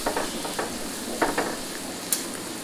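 Bean sprouts are stirred in a hot pan with fried onion seasoning, giving a steady sizzle with scattered scraping and clinking of a utensil against the pan.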